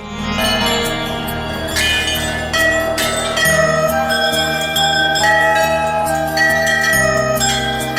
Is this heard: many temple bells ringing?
yes